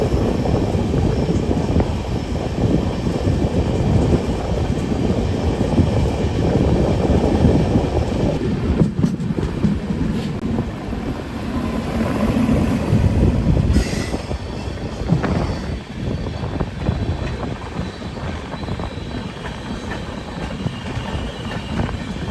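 Wainganga Superfast Express train at a station, a loud continuous rumble of rolling carriages with wheel noise and clatter throughout, shifting in tone midway, with no talking.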